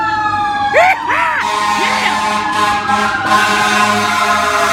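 A fire engine responds with its siren wailing loud and close as it rushes past, while a spectator shouts excitedly.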